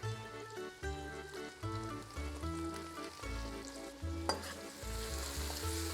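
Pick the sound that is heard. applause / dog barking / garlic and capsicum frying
garlic and capsicum frying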